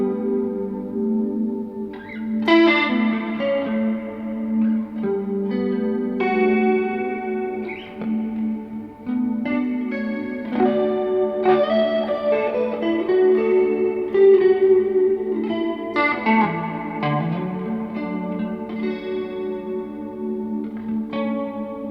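Electric guitar runs through reverb and chorus pedals on a studio pedalboard, playing sustained chords and melodic notes with a lush, shimmering, echoing tail, steady and fairly loud throughout with no talking.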